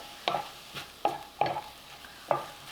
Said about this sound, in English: And at this point I mix everything together.